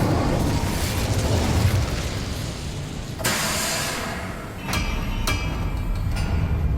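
An Incendio fire spell in Hogwarts Legacy erupts as a broad whooshing blast over steady background noise, followed by a couple of sharp pops.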